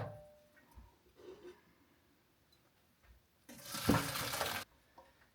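Cold tap water pours briefly over freshly drained pasta in a colander in a home kitchen, a burst of rushing splashing lasting about a second after faint clinks and quiet handling sounds.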